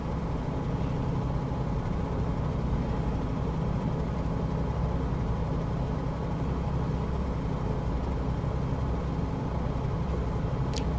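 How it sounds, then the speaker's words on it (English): Shark 600 light aircraft in the MSFS 2024 flight simulator, its engine droning as a steady, loud, rough hum throughout, with no talking. "The engine sounds like it's quaking apart. I don't know if you can hear it. It sounds like it's shaking apart."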